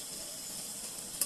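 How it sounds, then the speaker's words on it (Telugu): Onions and chillies dropped into a hot pan for Maggi noodles, giving a steady bright sizzle and hiss throughout, with a brief sharper spike at the very end and no talking. "ఉల్లిపాయలు వేసేద్దాం. అలాగే కొద్దిగా మిరపకాయలు వేసేద్దాం."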